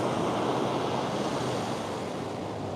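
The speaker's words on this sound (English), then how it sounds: "it's pretty big waves" Big ocean waves break on a beach in a steady, loud roaring wash of surf, with some wind rumble and no talking.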